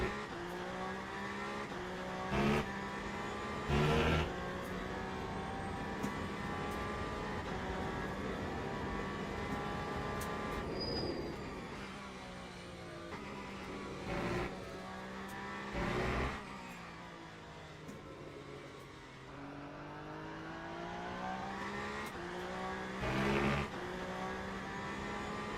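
A BMW race car in Le Mans Ultimate drones steadily through the gears, with rising and falling engine whine, several sharp upshift breaks and a long continuous run of loud, close engine tone.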